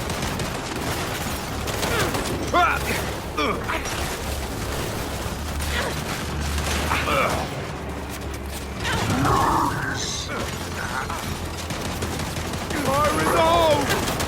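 Sustained turret and rifle fire in the shooter game Gears 5, dense rapid bursts rattling almost continuously with shouted voices of soldiers breaking through the battle din.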